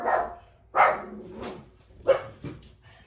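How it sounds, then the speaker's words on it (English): A dog barks nearby indoors, four loud, separate barks spaced about half a second to a second apart. "Why is my dog barking?"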